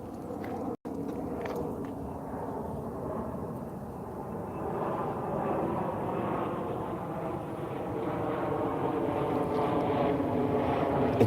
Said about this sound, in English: excuse the airplane